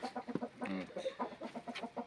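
Close clucking from a white rooster, a rapid series of short throaty calls from the bird nearby, fairly quiet with no talk.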